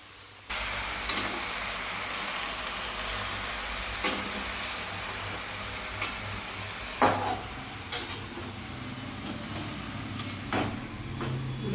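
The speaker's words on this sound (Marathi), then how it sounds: "आता यात लसूण टाकून घ्यायचा चांगला चट चट चट चट भाजला पाहिजे" Garlic fries in hot oil with a constant sizzling hiss that starts abruptly, punctuated every couple of seconds by the knock and scrape of a stirring spoon.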